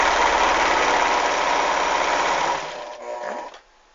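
An electric sewing machine runs a steady rapid stitching drone, stitching a seam through the centre of a cloth doll piece, then slows and stops near the end, leaving brief handling noises.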